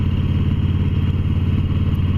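Sportster motorcycle engine while riding along at a relaxed cruising pace: a loud, steady, close-up low rumble with an even throbbing pulse and no talking.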